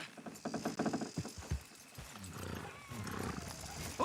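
Horses in Red Dead Redemption 2 snort and whinny under strain, close and fairly quiet, with hoof clops and a brief neigh mixed with game ambience and a voice.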